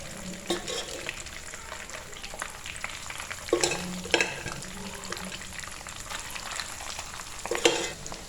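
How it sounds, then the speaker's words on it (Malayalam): Chunks of beef for Kerala-style pickle fry in hot oil over a medium flame, a soft continuous sizzle broken by several louder bursts of spattering and stirring. "ഞാനിപ്പോൾ ഇവിടെ 2 ബാച്ചായിട്ടാണ് നമ്മുടെ ബീഫ് വറുത്തെടുക്കുന്നത്"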